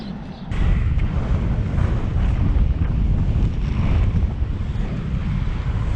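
Wind buffets the microphone outdoors during an inline skating session, producing a loud, continuous low rumbling roar throughout.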